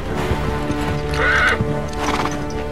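Horses neigh in the Uncharted 3 video game, a loud whinny rising mid-clip over continuous clip-clopping hooves and ambient game sound.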